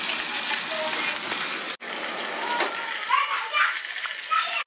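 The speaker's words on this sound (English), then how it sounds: "I'm trying to cook the side so I'm frying it" Fish sizzles and crackles steadily in a hot frying pan, close by, with a brief clatter partway through and faint voices in the background.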